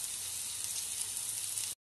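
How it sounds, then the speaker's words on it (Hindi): Onions fry in a pan with mashed tomatoes added for a Punjabi rajma masala curry, giving a steady, even sizzle with no talking that cuts off abruptly. "अब हमारे प्याज फ्राई हो चुके हैं तो अब हम इसमें डालेंगे टमाटर मैश किए हुए हमारे"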